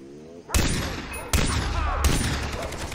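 Gunfire in the video game Far Cry 3 plays on a low-powered calculator: three loud, close blasts spaced about a second apart, each followed by a ringing, crackling tail.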